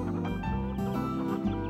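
Hungry cartoon hens cluck in busy, layered bursts alongside a loud musical soundtrack, close and continuous with no speech.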